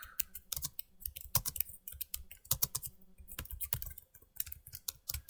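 Fingers type a short customer thank-you note on a computer keyboard, a close run of quick, irregular key clicks in bursts with brief pauses between words.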